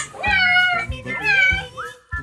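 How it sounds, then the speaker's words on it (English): A cat meows several times in a row, clear, close and tonal, each call rising and falling, with short gaps between them and a brief sharp sound at the end. "That's the sound of a cat!"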